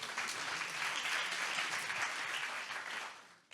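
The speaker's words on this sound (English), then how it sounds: "Again, another round of applause." Sustained applause from a large conference audience at a philanthropy and global development session, a dense wash of many hands clapping that holds steady, then tapers and cuts off near the end.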